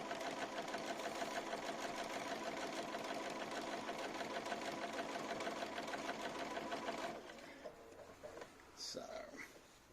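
A sewing machine running steadily with a SuiSei A9S binding attachment, stitching binding onto a small quilt, a continuous close mechanical whir that stops abruptly near the end, followed by light handling noises.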